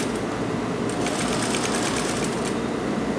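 Sewing machine running a basting stitch while fitting an invisible zipper, a fast, even mechanical whir and needle rattle heard close, with brief bursts of sharper clicking partway through.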